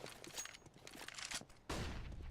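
Pistol shots in a Counter-Strike: Global Offensive match crackle in a busy, scattered string of sharp pops, closing with a louder sustained burst near the end.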